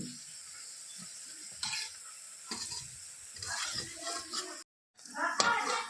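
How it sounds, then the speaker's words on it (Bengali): Yellow pea lentil fritters (matar dal bora) fry in hot oil with an uneven sizzle, with bursts of bubbling and light clatter of a utensil and pan, with a short silent gap. "এদিকে বড়া ভাজা চলছে মটর ডালের বড়া"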